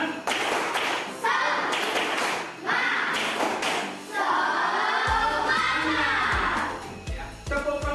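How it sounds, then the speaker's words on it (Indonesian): A school class performs a rhythmic spirit clap, a group clapping in set patterns with stomps or thumps and shouted chants mixed in, close and lively, with a lower heavy beat joining near the end. "Tepuk semangat."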